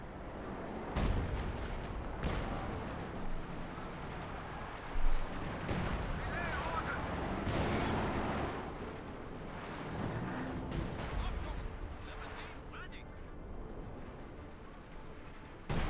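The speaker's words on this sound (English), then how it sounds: "Lots of artillery fire here." Company of Heroes 2 artillery fire booms through a match, repeated thuds and blasts spread unevenly over a bed of battle noise, fairly faint, with commentary talking over it.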